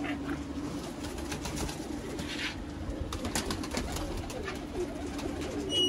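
Sialkoti pigeons coo steadily at close range in a loft, soft throaty calls repeating over a constant background hum, with occasional wing and movement noises.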